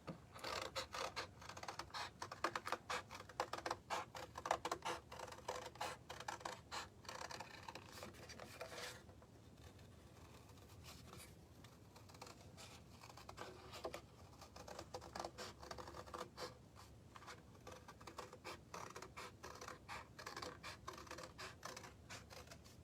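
Scissors snip out a paper football shape, a close series of crisp cuts and rustles in irregular bursts, with a quieter stretch midway and no speech.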